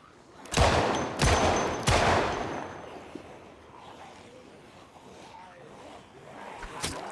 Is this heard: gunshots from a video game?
yes